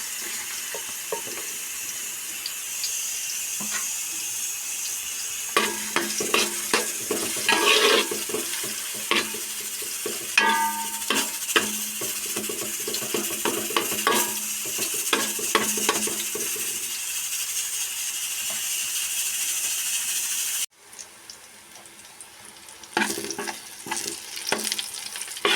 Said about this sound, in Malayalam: നമ്മൾ ഈ അരിഞ്ഞു വെച്ചിരിക്കുന്ന പഴം ഇതിലേക്ക് നെയ്യുടെ അകത്തേക്ക് ഇടുകയാണ്.